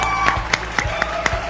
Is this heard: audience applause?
yes